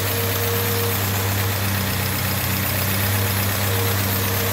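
A 1955 M38A1 Army Jeep engine with a rebuilt Carter YS-950 S carburetor idles steadily, a loud, close, even low rumble with a constant hum and no talking.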